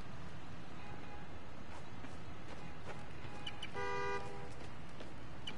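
Car horn honking in the Spider-Man: Miles Morales video game, a short tonal blast standing out over busy city street ambience, moderately near, with fainter honks around it.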